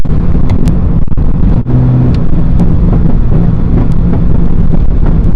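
A Ferrari F40 engine rumbles steadily up close while driving, with wind buffeting and sharp crackling pops from the exhaust scattered throughout.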